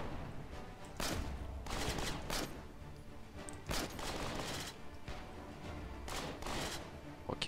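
Gunfire in State of Decay: Lifeline, with scattered volleys of sharp assault-rifle shots at a modest, somewhat distant level, arriving in irregular clusters through the whole stretch.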